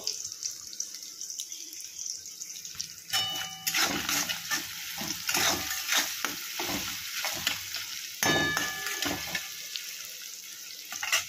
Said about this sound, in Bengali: ভাজাটা হতে থাকুক